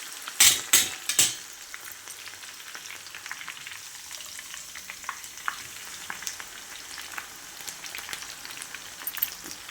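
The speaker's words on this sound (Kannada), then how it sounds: "ನೋಡಿ ಹಾಗಲಕಾಯಿ ಫ್ರೈ ಹಾಕ್ತಾಯಿದ್ದೀನಿ." Bitter gourd frying in oil under a mesh strainer: a few loud crackling bursts at first, then a steady fine bubbling sizzle with scattered pops.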